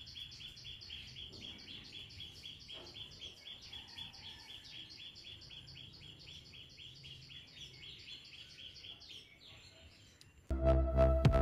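A fledgling that has just left its nest chirps in rapid, steady high trills outdoors, continuous and fairly close, before a sudden loud electronic burst cuts in at the end.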